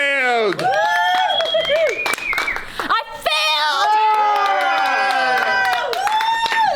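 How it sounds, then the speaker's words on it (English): Improv acting class erupting in cheers, whoops and clapping: loud, close group shouting with rising and falling voices and bursts of applause, continuing almost without pause. "you'll feel like you messed up and then everybody will cheer and applaud"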